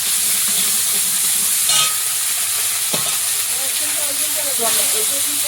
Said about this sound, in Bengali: শুকনো লঙ্কা পাঁচ ফোড়ন দেবো